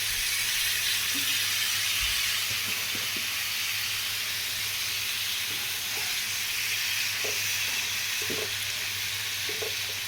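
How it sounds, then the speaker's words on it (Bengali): Bottle gourd frying in hot oil in a pan, giving a loud, dense, unbroken sizzle and hiss, with occasional soft scrapes of stirring and no talk. "এবার আমি এর মধ্যে লাউটা ঢেলে দেবো। খুব সাবধানে যাতে না ছিটকোয়।"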